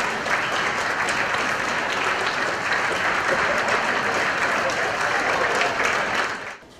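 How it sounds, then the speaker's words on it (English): Sustained applause from store staff at a new Tesco store opening in Hanley, dense and steady clapping filling the whole stretch before cutting off abruptly at the end. "staff applauded."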